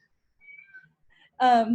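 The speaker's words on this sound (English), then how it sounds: "our cat's meowing in the background" A short, close cat meow near the end, following a few faint, high thin squeaks in an otherwise quiet room.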